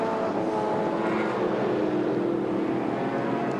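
ATCC sports sedan race cars at Amaroo Park, a loud, steady engine roar that holds for several seconds as the cars run past, with no speech over it.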